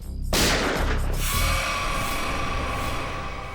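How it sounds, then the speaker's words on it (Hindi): A sharp burst of loud gunfire cracks out, followed by a dense, rumbling wash of noise that lingers and slowly fades. "गोली चली क्या?"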